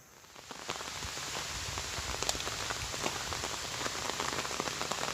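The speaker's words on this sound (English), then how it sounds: "It's decided to rain again." Steady rain falls along a roadside on a long-distance walk across America toward Sedalia, a dense close hiss with scattered drop taps throughout, no voices.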